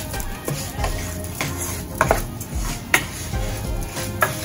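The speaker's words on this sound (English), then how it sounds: "Just give it a good mix with a stir" Seasoned rice being stirred and mixed in a pot, with repeated scraping and clinking of a utensil against cookware and a few sharper knocks, close and fairly steady with no talking.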